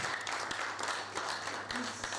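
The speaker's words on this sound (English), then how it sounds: "Please give me a round of applause." A short burst of steady, fairly loud applause from attendees at a business school alumni networking session, holding a dense, even texture throughout.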